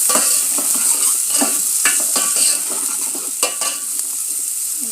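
Onions and green chillies with cumin and bay leaves frying in ghee in a pan, a steady bright sizzle broken by repeated scraping strokes of a spoon stirring, close and loud without voices.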